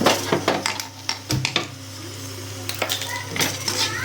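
Grated coconut frying in oil in a pan, dominated by repeated sharp scraping and clinking of a spoon against the metal pan in irregular bursts, with a steady hum beneath.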